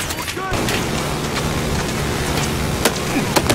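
Gunfire and explosions in the Battlefield 4 video game rumble loudly and continuously, with occasional sharp shot cracks, while a person talks over the battle.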